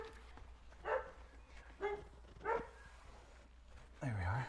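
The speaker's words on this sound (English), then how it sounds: "that was a dog." A dog barks a few times at moderate distance during window squeegee work on lumpy glass, short separated barks with a louder yelp-like burst near the end, over a low steady background hum.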